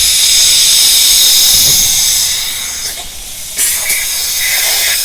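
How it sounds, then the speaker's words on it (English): A polyurethane foam bead is sprayed into a roof crack on a house under construction, giving a steady, loud, close hiss that shifts slightly in pitch partway through, with no talk over it. "He's blowing a polyurethane foam bead on there."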